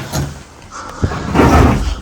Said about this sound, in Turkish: Kapı kapandı.